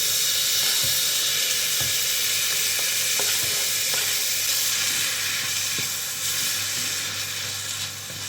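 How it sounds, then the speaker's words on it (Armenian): Chopped onions and tomato sizzle and fry steadily in a hot pan, a loud continuous crackle with occasional soft knocks of a utensil, no voices. "Սոխարած եմ անում։ Կավելացնեմ լոլիկը։"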